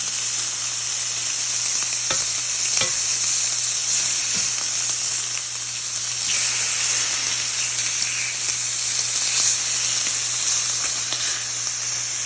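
Thick slices of homemade English-style back bacon, straight from the air fryer, sizzle and fry steadily in a pan throughout, a constant close hiss with occasional faint clinks and no talking.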